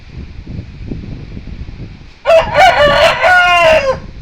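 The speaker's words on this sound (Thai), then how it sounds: "ขันอีกลูกเร็วจะตัดแล้ว ขันอีกทีเดียว ขันอีกเร็วขัน" A rooster crows once, close and loud, a long wavering cock-a-doodle-doo arriving after a stretch of quiet background murmur.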